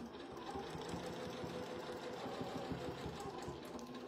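A sewing machine stitches steadily around a circle on a quilt, its rapid, even needle rhythm running close and continuous throughout with no talk.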